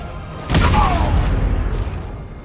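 In Batman: Arkham Knight, a big in-game explosion bursts suddenly with a loud boom, then a rumbling, crackling tail that fades over a couple of seconds.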